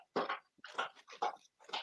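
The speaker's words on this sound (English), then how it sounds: "Oh, yeah, that's my dog." A dog makes four short, separate bark-like bursts in an uneven rhythm. The barks are close and fairly clear against a quiet background.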